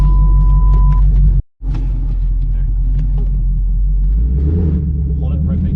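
Ford New Edge Mustang GT / SVT Cobra with a BMR tubular bumper support bracket rumbling along on a quick drive, deep steady engine drone close by with a brief cutout, a voice talking over it.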